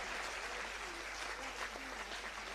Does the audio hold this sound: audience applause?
yes